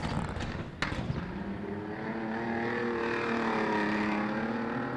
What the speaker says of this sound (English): Car doesn't sound flash as he comes down the main straight between gear changes.